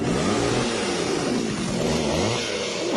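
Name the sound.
motorcycle engine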